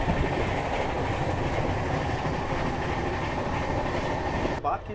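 A Shatabdi Express on the Delhi–Bhopal line rushes along the tracks at around 130 km/h, giving a loud, continuous rumble with rhythmic clatter from inside the carriage.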